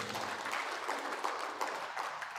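Conference attendees applaud a keynote speaker, a brief and fairly quiet patter of many hands clapping at a steady level for a couple of seconds.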